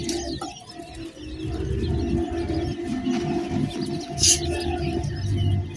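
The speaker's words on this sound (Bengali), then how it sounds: "একদিনের কোয়েল পাখির বাচ্চা" A group of one-day-old Japanese quail chicks gives soft chirps and cheeps over a steady, busy background hum, with one brighter peep standing out near the end.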